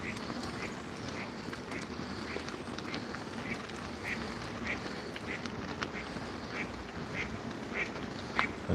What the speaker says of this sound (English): This is all the ducks.